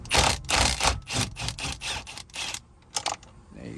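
A ratchet turns a 21 mm nut off the steering wheel of a Hyundai Accent, with a run of close, rhythmic clicking bursts and then a few scattered clicks as it loosens.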